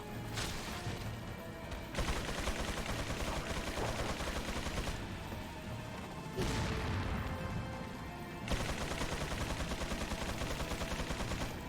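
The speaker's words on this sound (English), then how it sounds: "Now they're shooting off cycle." Enemies fire guns in the horror shooter Resident Evil 4, dense bursts of rapid gunfire with crashes and impacts, loud and continuous for several seconds with brief gaps and no talk.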